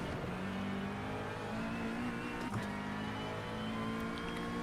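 Race car engine in the iRacing sim roars steadily at high revs, a dense buzzing drone with gear shifts and a brief dip near the middle, as another faster car closes in.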